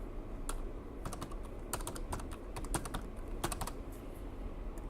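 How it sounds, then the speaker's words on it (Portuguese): Fast typing on a computer keyboard while entering a CPF number, irregular bursts of crisp key clicks close up, with no voice over them. "Vamos digitar o CPF dele."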